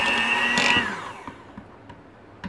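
A stand mixer whirs as it creams butter for a coffee crumb cake, a steady motor whine that winds down and fades within a second or two, leaving faint scattered clicks.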